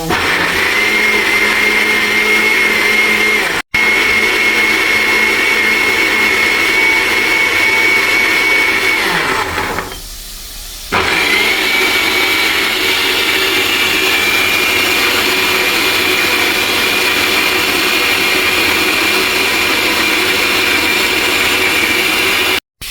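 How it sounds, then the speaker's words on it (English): A blender whirs loudly and steadily while blending a beetroot drink with Supligen, milk and dragon stout, dipping briefly midway before resuming at full power, close. "After I finish blending it, I'm going to strain it off"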